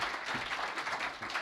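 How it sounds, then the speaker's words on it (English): An indoor audience claps for an award recipient, a brief dense patter of many hands, moderately faint and steady. "Give Stephanie a round of applause."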